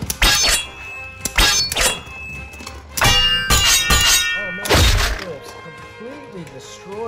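Beyblade tops launch and clash in a stadium, sharp metallic clangs and clicks in quick bursts with pauses between, ringing pings and whirring spin tails, a voice counting in the background.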